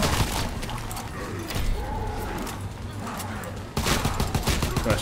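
An LMG fires in Call of Duty WWII Zombies mode: loud, continuous rattling bursts with heavy booms, easing briefly and then resuming strongly near the end, with game noise throughout.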